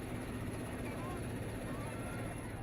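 A helicopter's rotor and engine roar steadily and loudly at close range during an airlift of displaced Yazidi people in Iraq, a dense continuous wash with a voice talking underneath.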